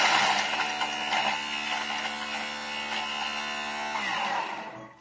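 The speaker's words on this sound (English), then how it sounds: "So all we've got is the garlic and the salt, and 5 seconds on speed 7." Food processor blitzing garlic cloves with salt on speed 7, a steady loud motor whir with rattling chop noise that runs for about four seconds and then winds down, with no talk over it.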